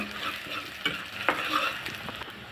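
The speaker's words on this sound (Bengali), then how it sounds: "পেঁয়াজ কুচি কাঁচামরিচ আর রসুন কুচি দিয়ে একটু হালকা ভেজে নেব" Chopped onion, green chili and garlic sizzle lightly in oil, a soft, quiet hiss with a few brief spoon scrapes as they are stirred.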